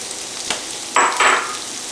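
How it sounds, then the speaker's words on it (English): Sausage and meatballs drop into a hot pan of garlic and onions, setting off short bursts of sizzling and crackling that swell, fade and swell again, close by with no voices. "We're going to go ahead and put our sausage and our meatballs in there."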